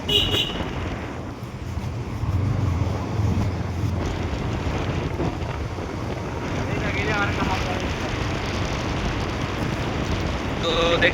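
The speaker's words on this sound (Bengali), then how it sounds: "তো দেখতেই পাচ্ছ বৃষ্টি পড়ছে" Rain falling during a market-day outing, a dense steady patter with wind buffeting the microphone; voices come and go faintly underneath.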